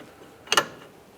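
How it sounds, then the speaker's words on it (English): A short metallic clicking rattle of wrenches working a 22mm jam nut on the rear lateral link of a Ford Flex, a brief cluster of close taps in an otherwise quiet space. "Now we're going to tighten each of these. When we do it, use two 22mm wrenches."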